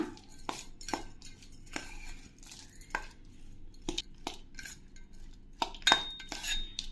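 A spoon clinks and scrapes against a bowl while pineapple chaat is mixed with spicy masala peanuts, giving a series of sharp, irregular taps and clatters close by, with no talking.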